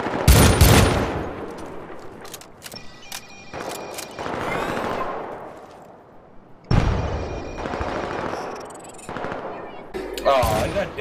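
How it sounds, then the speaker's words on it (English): Sustained gunfire aimed at a dropship in the co-op shooter Syndicate, with dense bursts of rapid shots and heavy impacts in several waves, loud and close, with game effects layered throughout. "Some guys spawned near the dropship and we're shooting it."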